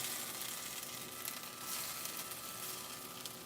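Plant-based unleavened French toast sizzling steadily in a hot pan just after being flipped, a soft continuous crackling hiss with no talk.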